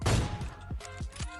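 Gunfire in the video game PUBG: a sharp burst of shots opens, followed by three distinct, evenly spaced single shots, loud and close.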